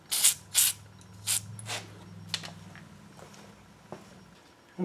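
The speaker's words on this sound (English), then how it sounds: "I'm going to give this a shot of silicone spray as well." Short bursts of silicone spray aimed at a lower radiator hose connection on an Audi S4 during servicing, two quick hisses near the start and a couple more later, close and sharp over a low engine-bay hum.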